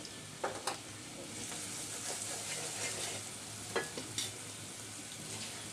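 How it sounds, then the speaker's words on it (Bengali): Onions frying soft with salt in a pan for a hilsa fish curry with kasundi, giving a quiet continuous sizzle with a few sharp spoon-scraping stirs, and no voices. "পেঁয়াজ অনেক অনেকটা নরম ভাজা হয়ে এসেছে এ পর্যায়ে আমি এক চামচ লবণ দিয়ে দিচ্ছি"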